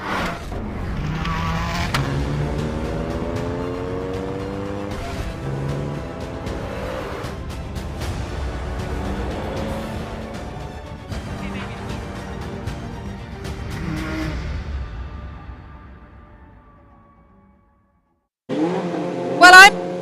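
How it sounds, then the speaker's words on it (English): Formula 1 race car engines in the assembly area at the Goodwood Festival of Speed, a loud, sustained engine roar with rising revs that fades to near silence before a sharp, loud burst of revving returns at the end. "it's getting very noisy because we're about to see the F1 cars take to the track"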